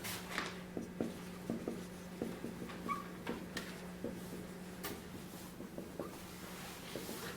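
Chalk or marker tapping and scratching on a board in a quiet lecture room, a steady run of short, faint strokes in an irregular rhythm with no talk.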